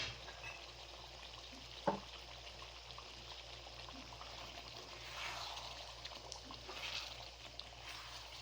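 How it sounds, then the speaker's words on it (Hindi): Mutton karahi sizzles in a pan, a soft, steady frying hiss with faint crackles and a single sharp clink near the start, heard alone without any talk. "अब 2 से 3 मिनट तक इसको और भुनेंगे"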